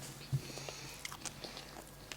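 Someone bites into a piece of cooked potato from a chicken-and-olive dish and chews it, one crisp bite followed by soft, faint mouth sounds over quiet room noise.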